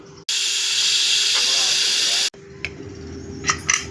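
A pressure cooker boiling taro (chamagadda) lets out one loud, sustained steam whistle lasting about two seconds, then cuts off, leaving a low hum and a few light clinks.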